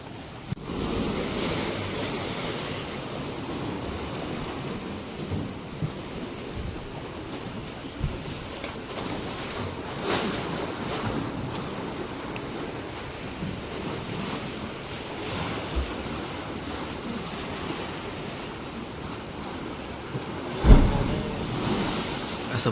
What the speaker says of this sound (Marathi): तिथं जातं, तिकडं दगडावर आदळतं आणि वरून तिथून वर येतं